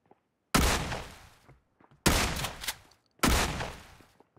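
Three loud bursts of gunfire in a hide-and-seek map of a video game, each a sharp close blast trailing off into a short rattle, with near silence between them.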